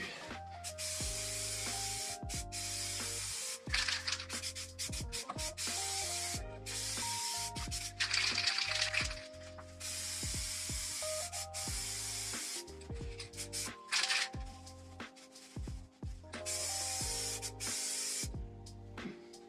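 Hissing bursts of spray paint laid as a coat on a 1967 Ford Country Sedan, repeated passes starting and stopping over background music.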